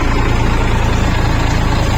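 A tractor engine runs in a waterlogged farm field, a loud, close, steady low-pitched diesel chug with a constant rhythmic throb and no voices.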